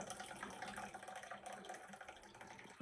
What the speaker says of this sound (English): I'm going to pour my coffee out